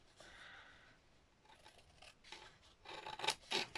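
Scissors snipping through paper at a craft table, soft rustling followed by a quick run of sharp close cuts that grow louder toward the end.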